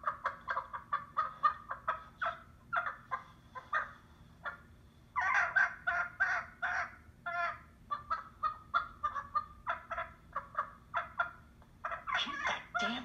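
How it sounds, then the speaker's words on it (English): A chicken clucks aboard a bus: a long run of steady, rhythmic squawks and clucks close by and fairly loud, with no voices over them. "Keep that damn chicken quiet!"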